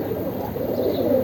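A pigeon coos in a short, low, murmuring call, close and steady.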